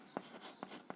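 A pen writes out a maths solution in three short, faint scratching strokes on paper, close up against quiet room tone.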